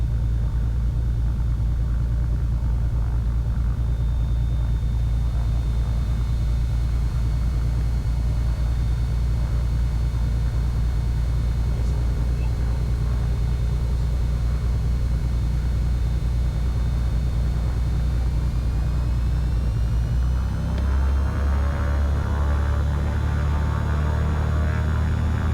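A Cessna 310 twin-engine plane runs at high power on a takeoff roll from a Palatka, Florida runway, a loud, steady droning hum heard from inside the cabin, with the pitch shifting near the end.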